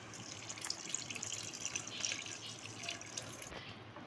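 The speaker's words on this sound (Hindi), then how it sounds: "डायरेक्ट गोश्त के ऊपर हम अदरक लहसुन डाल के और 2 कप पानी मैं इसमें ऐड करूँगी" Water is poured over mutton pieces topped with ginger and garlic in a pot, a steady close running-water splash that lasts throughout with no talk.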